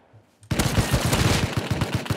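Automatic rifle fire in the survival game Rust breaks out after a short quiet moment, a loud, rapid burst of shots that keeps going for about two seconds, close and dominant.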